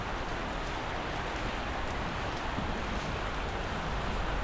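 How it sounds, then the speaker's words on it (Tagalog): Heavy rain pours steadily with a dense, continuous hiss and patter, unbroken for the whole stretch, with no voices. "ulan na ulan pa rin mga boss"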